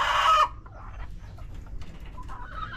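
Young chickens kept as pets give a loud, close crow-like call lasting under half a second, then soft, scattered clucks and rustling continue faintly.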